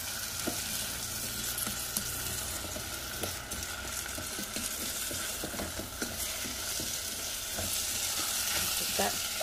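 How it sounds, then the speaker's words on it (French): Rice, onion and butter frying together in a pan, a dense constant sizzle with repeated soft scraping strokes of stirring throughout, fairly close, with no talking. "Et le riz et l'oignon et le beurre. Bien remuer."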